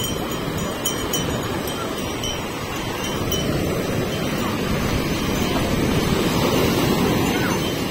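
Ocean waves at high tide on Marina Beach in India, a loud continuous roar of surf with strong wind buffeting the microphone throughout.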